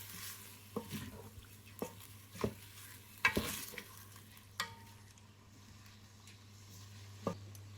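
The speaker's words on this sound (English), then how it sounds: "Give it a hearty stir." Washed, soaked basmati rice being stirred into a one-pot potato fried rice, a few scattered scraping strokes against the pot over a faint background hum, quiet and sparse.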